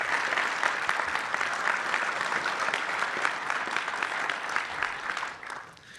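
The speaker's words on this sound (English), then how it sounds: "Let's give them a round of applause." Steady audience applause for coaches and staff at a campus gift announcement, many hands clapping in a dense, even wash that fades slightly at the end, with no talk over it.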